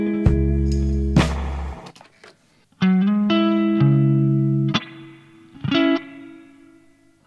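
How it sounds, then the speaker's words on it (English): Electric guitar through a Dumble amp with reverb, cabinet simulation and light compression, playing several distinct chords and notes with short pauses between them, clear and close with a soft reverb tail. "So we got the Dumble amp, we got the reverb, we got the cabinet,"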